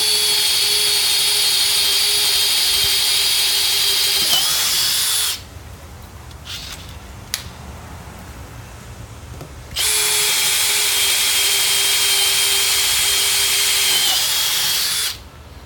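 A Makita cordless power drill on its first speed setting whines loudly and steadily up close, then stops for several seconds of quiet handling noises, then runs again at the same pitch before cutting off.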